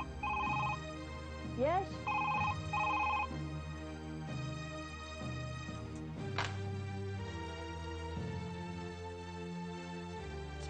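A telephone rings repeatedly and goes unanswered in a household drama scene, its bursts of electronic trilling standing out over background music, with a voice speaking briefly.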